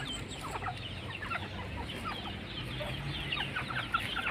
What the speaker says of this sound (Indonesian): Ini ada ayam-ayam kami yang kami ternakkan.